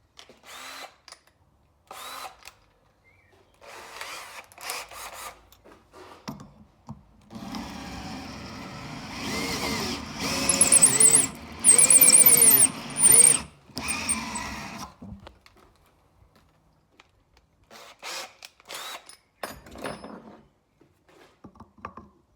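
Drill with a 10 mm bit boring into copper for a handmade knife, short bursts at first, then a sustained loud whining grind with screeching peaks, then tapering to brief taps, close up.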